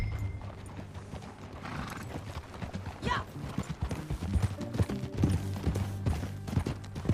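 Horse hooves clip-clop steadily while riding in Red Dead Redemption 2, with a brief whinny midway, all under game music and occasional short speech.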